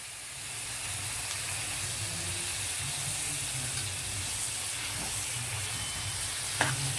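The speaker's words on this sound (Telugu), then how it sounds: "ఇప్పుడు ఇదంతా ఒకసారి కలపండి బాగా" A chicken curry of chicken, onions, salt and chili powder being stirred in a frying pan: a steady sizzle and hiss with soft scraping and one short sharp knock near the end, no talking.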